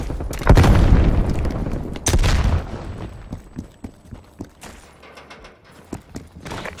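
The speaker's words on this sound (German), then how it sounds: "Granate ist raus." A grenade goes off in the video game Call of Duty Black Ops Cold War, two heavy booming blasts in quick succession followed by scattered lighter gunshots and debris, loud and close.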